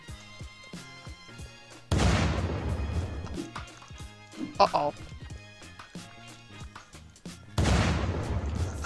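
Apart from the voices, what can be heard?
explosion in the video game Unturned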